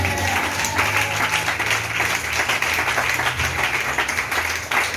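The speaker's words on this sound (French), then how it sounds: "Dis Amen et acclame le Seigneur." Church congregation applauding during a sermon, loud sustained clapping from a large crowd filling the room, steady and dense throughout.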